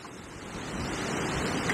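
Strong gusting wind, around 40 mph, sweeps across the River Avon, giving a loud, steady broadband roar with microphone buffeting and no break over the whole stretch.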